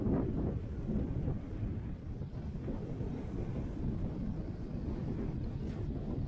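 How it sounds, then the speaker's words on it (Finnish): Strong wind buffeting a sailboat on open water at Porkkalanselkä, a steady loud low roar of gusts battering the microphone without pause, with no talk. "Tuuli on kyllä kova."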